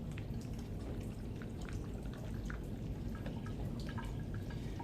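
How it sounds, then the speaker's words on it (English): Deionized water from a wash bottle is rinsed over lab glassware at a sink, a steady close patter of dripping and splashing throughout, no voices. "Rinse with DI water."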